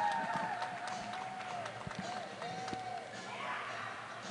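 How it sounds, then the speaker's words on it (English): A hockey arena crowd applauds and cheers as the St. FX X-Women take the ice for a game against the Dalhousie Tigers, a moderate sustained roar with skate scrapes, while a commentator talks over it. "X getting a bit of a cheer as they come to the ice."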